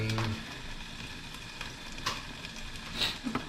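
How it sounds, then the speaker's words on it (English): Tomatoes sizzle in a hot pan with a soft, steady frying hiss at low volume, broken by a few faint clicks and taps of cookware. "Get it nice and sizzling."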